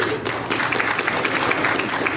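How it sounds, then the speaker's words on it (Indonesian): Crowd applause at the opening of the Buah Batu Corps (BBC) national working meeting in 2024: a busy, continuous patter of many people clapping at an even level throughout. "Boleh berdiri, tepuk tangan."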